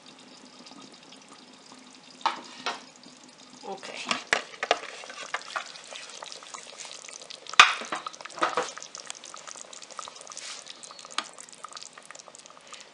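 Chicken legs alla cacciatora cooking in a covered pot, bubbling softly and sizzling low throughout, with scattered light clinks and taps standing out, and a brief spoken word near the middle.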